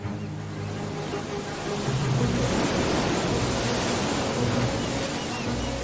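Ocean waves break over a rocky shore lined with mussel colonies, a loud, steady, broadband rush of surf that swells slightly partway through.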